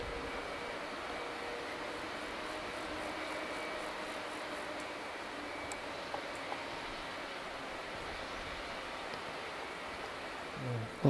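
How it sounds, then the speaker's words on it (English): Aircraft approach the southern runway at Manchester Airport, heard as a steady, distant engine drone that stays even and fairly faint throughout, with no voices. "there's a three aircraft coming to the southern runway"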